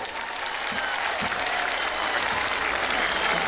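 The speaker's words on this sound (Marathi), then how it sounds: "आपण सगळ्यांनी प्रचंड टाळ्यांचा जल्लोष करायचा आहे." A large crowd at a traditional Dussehra rally at Narayangad breaks into loud, sustained applause as a leader arrives on the main stage, a dense unbroken wash of clapping throughout.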